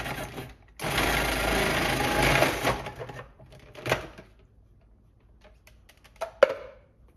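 Cuisinart 7 cup food processor pulsing, a loud whirring motor burst of about two seconds, then a shorter pulse and a sharp click, with quiet gaps between.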